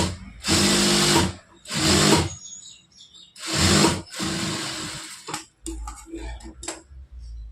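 A sewing machine stitches a blouse in several loud runs of a second or two each, separated by short pauses, followed by lighter clicks and handling noises.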